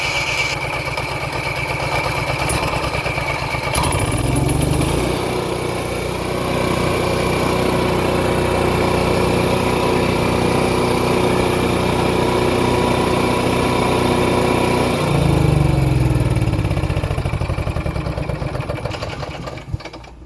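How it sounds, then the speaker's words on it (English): The generator of a 2018 Thor Freedom Elite RV starts up with a rumble and then runs at a steady, loud mechanical hum, its tone shifting once near the end. "We've got the generator running here."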